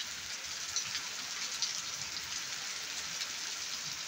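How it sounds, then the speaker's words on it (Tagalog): Heavy rain falling steadily on a rainy April afternoon in Pakistan, a dense, even hiss that holds at constant loudness with a few brief louder drops, no voices. "it's heavy rain"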